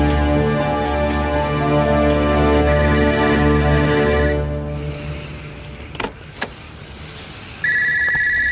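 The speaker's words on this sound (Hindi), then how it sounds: "प्लीज फोन उठाओ" A telephone bell rings in repeated bursts over a steady background hum, then stops, followed by a couple of sharp knocks and a brief electronic tone.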